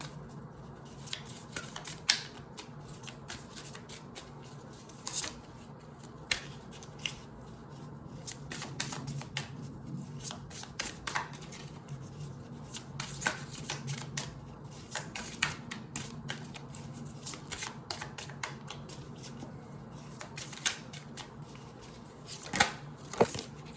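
Tarot cards are shuffled repeatedly at close range, a steady stream of riffling flutters and sharp slaps that continues throughout with no talking.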